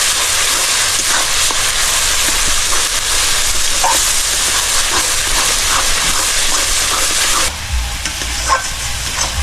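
Ground pepper, coriander and cumin spices sizzle steadily in hot oil while being fried for Bengali-style chicken korma, with a continuous close hiss and occasional stirring clatter, and a brief dip in the sizzle near the end.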